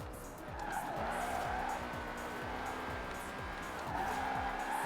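A tuned BMW of about 600 horsepower drifts with the handbrake in the Forza Horizon 4 racing game, its engine droning steadily with repeated rising gear sweeps while the tires squeal continuously through the slide.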